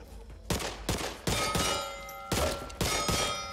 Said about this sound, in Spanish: esta es la Glock normal, que solo dispara una